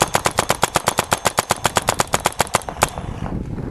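Azodin Kaos mechanical paintball marker firing a rapid, steady string of about twenty sharp pops, close and loud, then stopping abruptly into a faint room tail.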